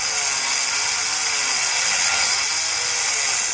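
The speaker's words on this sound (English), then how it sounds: "I'm just going to use a Dremel tool with a cutoff wheel." Dremel rotary tool with a cutoff wheel trimming marked corners on a base plate kit for a 2019 vehicle, a loud, steady high-pitched whine with a slight wavering grind, continuous and close.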